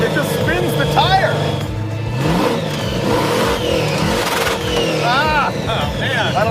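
A supercharged 1971 Plymouth Satellite engine revs hard while spinning a tire on a farm, loud rising and falling roars close by, with people talking and exclaiming over it.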